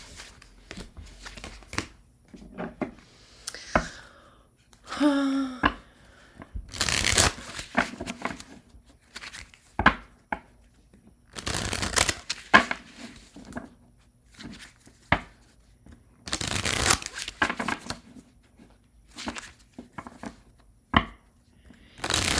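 Tarot cards are shuffled in several separate bursts of crisp riffling and shuffling, with quiet pauses in between and no talking.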